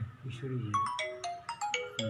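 A mobile phone ringtone plays a bright, rising run of electronic tones during a Gita study talk, close and clear, with a voice audible underneath.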